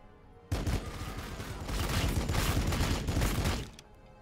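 Sustained loud gunfire in Warhammer 40k Battlesector, a dense continuous barrage of many overlapping shots lasting about three seconds, then cutting off abruptly.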